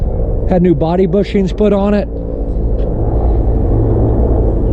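An airplane passing overhead makes a broad, continuous low rumble; someone talks over the first half, then the droning roar carries on alone.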